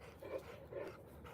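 Dogs panting outdoors on an irrigated lawn, rhythmic soft huffing breaths in a steady pattern, fairly quiet and close, with no talking.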